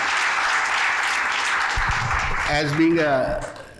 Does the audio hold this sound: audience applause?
yes